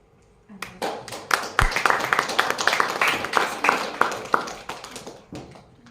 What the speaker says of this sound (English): So let's have a big round of applause for Aditya Kolhapuri